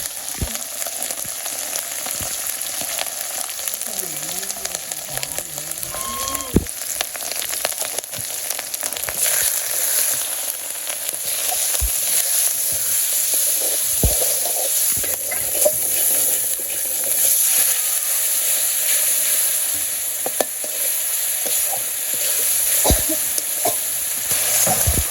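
Salt and turmeric fry in a pan with a steady soft sizzle, broken by occasional scrapes and clinks of a stirring utensil and a faint background tone, with no talking.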